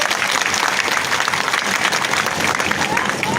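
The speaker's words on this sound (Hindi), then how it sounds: "जोरदार ताली बजा के स्वागत करो" A village gathering crowd applauding to welcome a visiting minister at a night chaupal, dense steady clapping filling the whole moment, close and loud.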